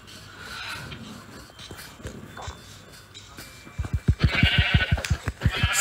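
Sheep bleating in a video game, a few faint calls early on, then a run of rapid thumping footsteps and a louder bleat near the end.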